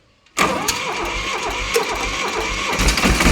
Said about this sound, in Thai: นี่ไม่ได้เผาหัวนะ ถ้าเผาหัวจะติดง่ายกว่านี้ครับ